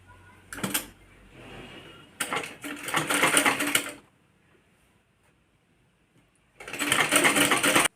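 A sewing machine stitches along a kurti in three separate runs: two short bursts, then a longer stretch of rapid whirring that stops, a quiet pause, and a final steady run, all close and loud with no talk.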